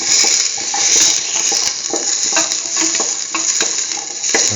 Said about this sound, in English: Add the shallots.